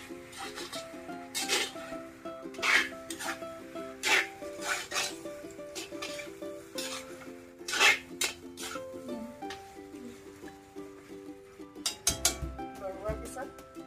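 A utensil scrapes and knocks against a cooking pot as duck meat is stirred, irregular rasping strokes and clinks over a steady sizzling hum, close and moderately loud.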